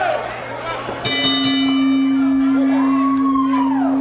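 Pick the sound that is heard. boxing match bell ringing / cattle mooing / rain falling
boxing match bell ringing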